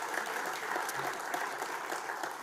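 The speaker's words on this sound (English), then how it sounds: "huge round of applause for Dee" An audience at a regional sports awards night claps in a steady, fairly quiet wash of applause with no speech over it.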